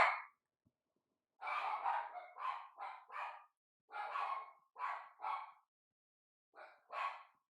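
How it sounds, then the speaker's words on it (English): Several house dogs bark excitedly indoors as a husband arrives in the garage, giving a loud, close string of sharp barks in irregular clusters with brief gaps and no speech. "I can't hear their dogs, but I'm pretty sure you can hear my dogs."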